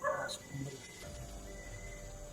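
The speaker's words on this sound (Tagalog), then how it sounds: "May aso sila." A dog gives a few short, faint yips and barks at the start, then quiet background hum remains with a soft tone.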